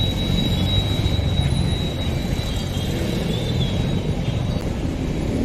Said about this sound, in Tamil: இங்கேயும் டிராஃபிக்காக தான் இருக்குது.